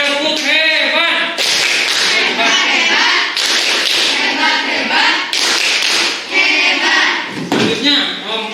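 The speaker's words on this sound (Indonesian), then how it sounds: "kasih tepuk hebat untuk kelompok Soekarno." A group claps together in several rhythmic bursts, loud and close, with brief pauses between rounds and voices mixed in.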